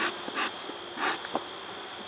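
Honeybees buzz from a hive that has just been pried open, a faint steady drone with short louder swells as individual bees fly close past.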